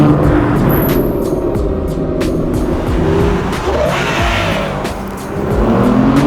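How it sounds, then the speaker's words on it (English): A 2010 Aston Martin V12 Vantage engine roars loudly and continuously at high revs toward redline, its pitch climbing again near the end, with road noise underneath. "it is so satisfying to just rev that engine out all the way out to red line"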